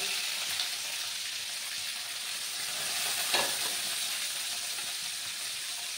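Vegetables and curry leaves frying in a pan for suji upma make a steady, close hissing sizzle, with one brief louder stir or crackle partway through.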